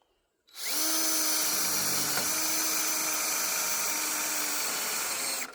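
A power drill drives tech screws into the metal frame of a 20 x 20 high tunnel, whirring loudly and steadily for about five seconds after starting abruptly, with a brief dip in pitch partway through, then stopping.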